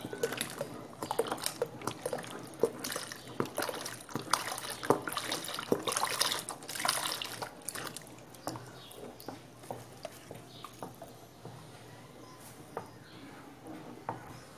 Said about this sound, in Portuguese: Vou colocar um litro de leite por enquanto.